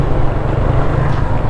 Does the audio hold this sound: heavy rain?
no